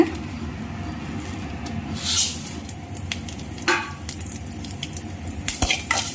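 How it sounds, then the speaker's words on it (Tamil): Ingredients and dried red chillies frying in a pan for Tamil vatha kuzhambu, a steady close sizzle with occasional scrapes and clinks of a spoon against the pan. "பொரியட்டும் நல்லா பொரிஞ்சிருச்சுங்க"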